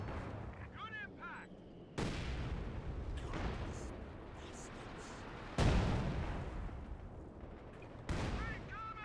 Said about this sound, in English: Ziscon barrage showing that he can also fire indirectly